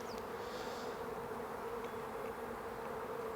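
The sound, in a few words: honey bees buzzing on the frame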